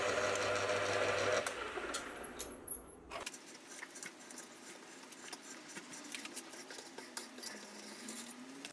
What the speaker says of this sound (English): I'll come in with an end mill, and I'm going to make a small counterbore